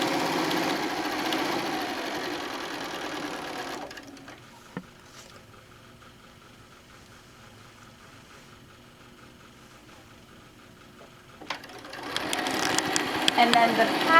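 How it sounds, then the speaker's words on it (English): A sewing machine stitches quilt pieces for a dinosaur panel quilt top with a 1/4 inch seam, running in a loud, fast, steady whir, pausing for several seconds in the middle, then starting up again close by. "We're going to go ahead and do our sewing. 1/4 inch seam again."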